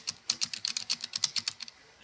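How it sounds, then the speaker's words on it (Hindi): Quick, crisp keystrokes on a computer keyboard, a fast, steady run of about fifteen close clicks lasting under two seconds, with no voices. "मैंने टाइपिंग शुरू की"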